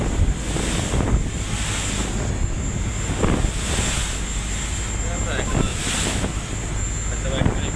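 Strong wind buffets a phone microphone on a boat heading toward a Maldives island, a constant loud rumble and roar with gusty swells and faint voices underneath.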